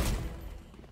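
Gunfire in the Valorant video game: a single sharp burst of shots right at the start, then a decaying rumble and rattle that fades over about a second, loud and close with no voices.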